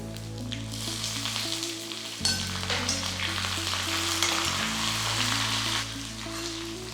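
Dry red chillies torn in half and curry leaves hit hot oil for a beef mappas tempering, giving a loud, dense, continuous crackling sizzle with a steady low hum beneath it.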